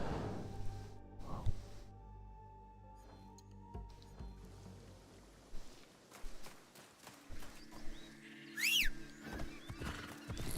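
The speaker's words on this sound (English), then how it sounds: "Nice, I've got my horse back." A horse in Assassin's Creed Shadows whinnies near the end, after a stretch of hoof clops and footsteps amid game ambience and shifting effects.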